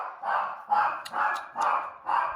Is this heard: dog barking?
yes